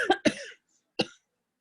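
Two quick coughs in a row, then a pause and a third single cough, close and fairly loud against silence.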